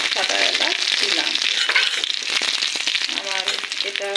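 Olive pickle ingredients fry in hot oil with bay leaf, garam masala and white cardamom, giving a loud continuous sizzle and crackle close up, with a voice talking faintly underneath.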